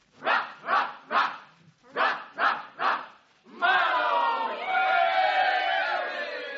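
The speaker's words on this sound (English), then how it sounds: "Come on, everybody, a cheer for Tommy Marlowe." A crowd of students cheers for Tommy Marlowe at a school rally, first with six rhythmic group shouts and then a sustained roaring cheer.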